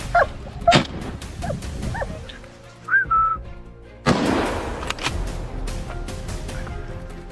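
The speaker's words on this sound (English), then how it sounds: "Thankfully, our hounds had cornered one." Hunting hounds bark and yip at a wild boar they have cornered on a Texas farm, a run of sharp barks with whimpers and a whistled tone mixed in, close by and fairly loud.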